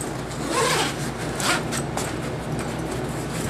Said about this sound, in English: You can see that it opens up by using the side zip system.